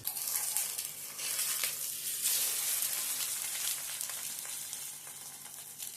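An omelette frying in a pan, a continuous hissing sizzle heard up close and fairly loud, slowly easing toward the end, with no speech.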